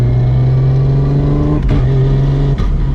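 A Barra GT350 accelerates hard with a PPG sequential gearbox and no-lift shifts, a loud steady engine drone recorded close up, broken by two quick shift dips about a second apart.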